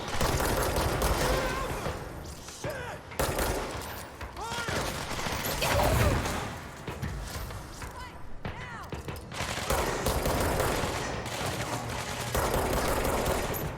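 Dense gunfire in the video game Control crackles in rapid volleys over a busy mix of game effects and music, loud and continuous throughout.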